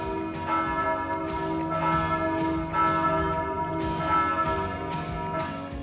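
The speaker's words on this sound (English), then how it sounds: "every 15 minutes, the church bell rang, not gently, but with insistence" Church bells peal repeatedly in the Bavarian Alps, loud and close, their overlapping strikes ringing on in a steady insistent rhythm with no voices.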